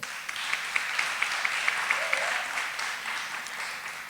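An audience at a memorial lecture applauds high school learners: dense, steady clapping from many hands fills the room at moderate distance, with a faint voice briefly heard beneath it.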